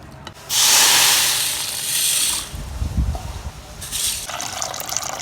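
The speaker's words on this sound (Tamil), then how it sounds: "வறுத்ததுனா ஒரு அலசிட்டு போடலாமே அப்படின்ட்டு அலசிட்டு இருக்கேன்" Roasted green gram being rinsed in water for a sweet ball recipe: two bursts of water pouring and gushing, then the grains sloshing and rattling in a vessel, loud and close.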